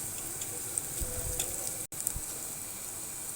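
Onions softening in a pan for a capsicum mince dish, a steady close sizzle with a few soft stirring scrapes and a brief cut near the middle, no talk.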